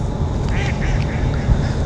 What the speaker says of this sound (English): duck's over there laughing at me